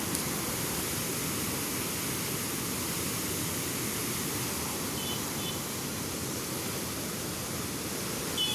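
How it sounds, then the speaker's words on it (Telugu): Fast water rushes at Nizamsagar in a constant, dense roar that holds at an even level from start to finish, with no voices over it. "వాటర్ సౌండ్ అయితే వినండి ఫ్రెండ్స్,"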